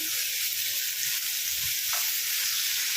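Sliced onions frying in a pan for a Telugu-style egg tomato curry, giving a steady, loud, broad sizzle that holds evenly throughout with no talking.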